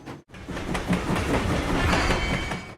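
A train runs along the rails with a continuous, fairly loud rumble and rhythmic clickety-clack, heard alone with no voices.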